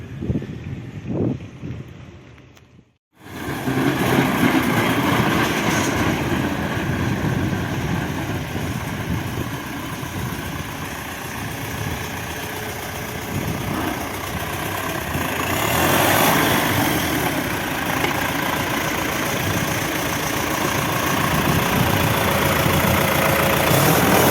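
A used tractor with 2700 engine hours idles outdoors, a steady continuous low engine rumble mixed with wind noise after a brief quiet start.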